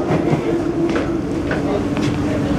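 MRT train standing at or pulling into Jurong East Interchange station, a steady loud rumble of the carriage with faint rail and motor hum throughout, no clear talk over it.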